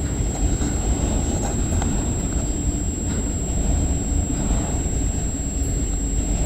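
Freight train departing toward Toronto, a continuous heavy low rumble of wheels and engine rolling past nearby with a faint high whine on top, no speech.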